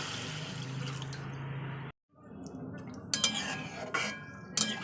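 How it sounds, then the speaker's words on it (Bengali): A cup of water is poured over spice masala frying in oil for a meat curry, cutting the steady sizzle to a brief hush before bubbling resumes with scraping and clinks of a utensil against the pan. "তো চলুন এবার জল দিয়ে দিই তো দিয়ে দিচ্ছি এক কাপড়ের জল"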